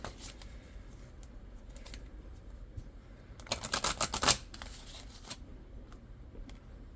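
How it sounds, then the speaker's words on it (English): Oracle cards being pulled and shuffled by hand, a short burst of quick papery riffling and flicks in the middle, otherwise quiet room tone. "go ahead and pull two more oracle cards for this"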